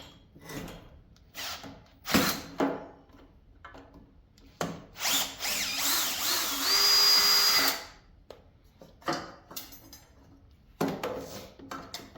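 Power drill in low gear backing bolts out of a large electric motor being scrapped for copper, in several short whining bursts with one longer sustained run between pauses.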